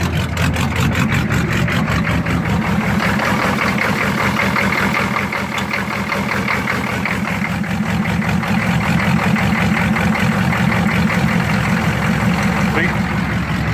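A diesel-swapped Monte Carlo engine idles with its glow plugs on, a close, loud, steady low rumble with an even rapid knock, while someone talks over it.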